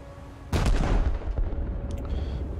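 Heavy naval guns firing on an enemy ship in a British cruiser naval battle game: one loud, close blast with a deep booming rumble that rolls on and fades, with no talk over it.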